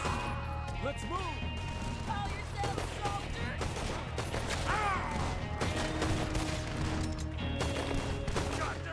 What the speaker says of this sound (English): I love these semi-automatic pistols